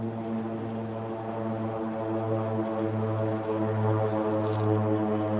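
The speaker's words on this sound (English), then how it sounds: "That sounds like a skydive plane to me." A skydiving airplane flies overhead after takeoff, its propeller engine droning steadily and fairly loud throughout, with a strong low hum and layered harmonics that barely change.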